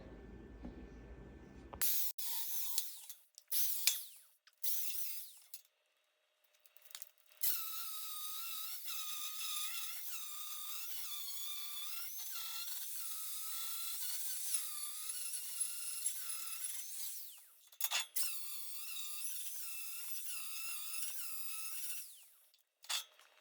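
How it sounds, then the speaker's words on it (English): A power drill grinds through steel for a 16mm bolt with a high, strained whine, running in long steady stretches broken by a few short stops and restarts. "I think I'll drill it through for 16mm, 16 bolt."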